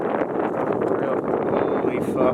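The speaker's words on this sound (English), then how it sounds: "Super windy. I don't know if you can hear the wind." Strong wind buffeting the microphone on the exposed Beehive Trail in Acadia National Park during rain, a dense continuous roar under a brief spoken exclamation.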